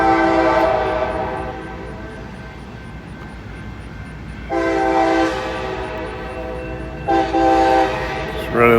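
A train locomotive running long hood forward sounds its horn in long, loud, sustained blasts that start, fade and return, over a rumbling engine. A short burst comes again at the end.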